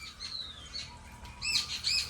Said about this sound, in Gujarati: મોરલો બોયલો મોરલો બોયલો